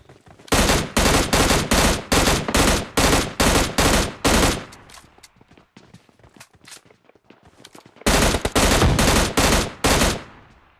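M16 gunfire in PUBG Mobile Lite comes as loud, rapid bursts of automatic shots, several quick volleys, then a stretch of scattered single cracks, then more full bursts, with no talk.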